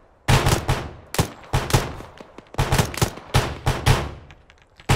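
Bursts of rifle and automatic gunfire from a military firefight in the Arma 3 video game, with loud repeated volleys in uneven clusters, no talk over them.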